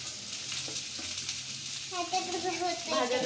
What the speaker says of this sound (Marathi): थोडंसं तेल टाकलंय. इरा कुठं आहे?